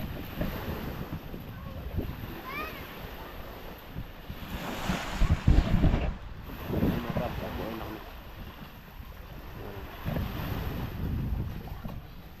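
Ocean waves surge and wash in repeatedly, growing strong, amid gusty wind buffeting the microphone, with voices talking in Filipino now and then.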